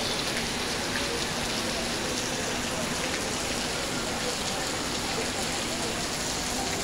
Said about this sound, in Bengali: কঠিন আকারে বৃষ্টি হচ্ছে